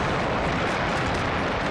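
Fireworks at the Thunder show over a river bridge rumble as one continuous, dense roar of overlapping booms, loud and unbroken throughout.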